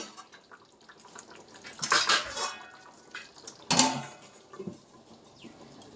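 A lid goes onto a pot of rohu fish curry with potato and pointed gourd, making two distinct metallic clatters a couple of seconds apart among softer kitchen clinks.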